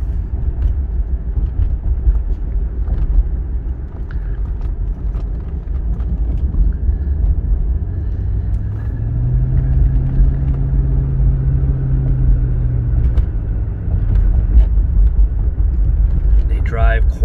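A Fleetwood land yacht cruising along, its engine a low, steady rumble and road drone that holds throughout, with a voice talking over it.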